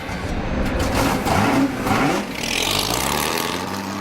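A 1967 Ford GT40 with a 427 V8 engine revving hard at high RPM on the Watkins Glen track, a loud, close, continuous roar that rises and dips slightly.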